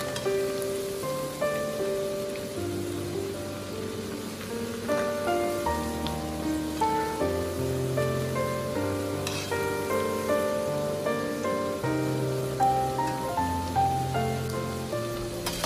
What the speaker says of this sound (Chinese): 将蘑菇炸至金黄